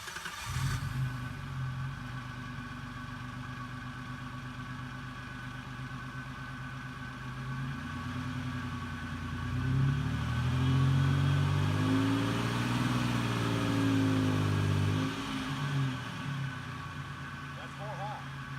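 Vehicle with a taco box engaged, driving in 4 high, a steady mid-pitched engine drone that swells and revs in the middle before settling, continuous and fairly close, with a voice talking over parts of it.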